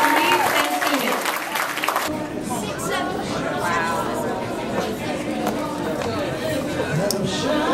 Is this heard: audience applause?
yes